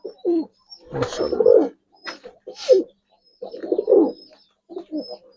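Black Budapest pigeons cooing in bursts of soft, throaty calls, close by and moderately loud, with short pauses between phrases and a faint higher chirp now and then.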